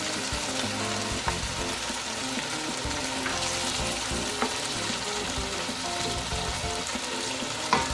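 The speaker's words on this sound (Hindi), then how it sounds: "ये देखिए मसाला भुन गया है, घी निकल आया इसमें से। अब इसमें मैं इमली डाल रही हूँ" Spicy masala sizzles and fries in ghee for Sindhi biryani as tamarind is stirred in, a steady close crackle with occasional spoon knocks and faint watery sounds underneath, no voices.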